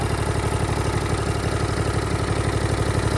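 A Toro lawnmower's swapped-in small engine idles steadily and loudly up close, with a fast, even, throbbing pulse and no voices.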